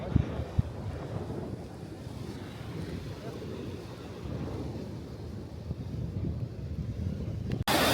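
Big ocean waves rolling onto a beach on Siargao, a steady loud roar of surf mixed with wind buffeting the microphone, continuous throughout with no clear breaks.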